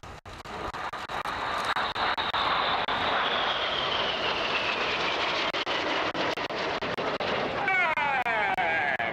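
Red Arrows synchro pair jets fly past upside down at an air display, making a loud, sustained roar that rises and sweeps across, with a crowd murmur underneath.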